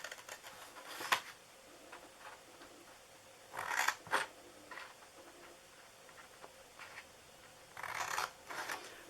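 Scissors snip through the top of a DIY Christmas tote box in a few short bursts of crisp cutting, separated by quiet pauses and light handling noises, close and fairly soft.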